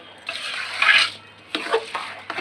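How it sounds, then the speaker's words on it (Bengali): Rice being stir-fried in a pan for khichuri, with dry scraping stirs of a utensil against the pan in short bursts and a soft sizzle underneath, close and moderately loud. "সুন্দর করে চালটা ভাজা ভাজা করে কষাই"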